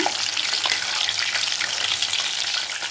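Soya chunks (meal maker) deep-frying in hot oil for a soya 65 snack, a dense, even crackling sizzle that stays loud and close throughout, with no voices.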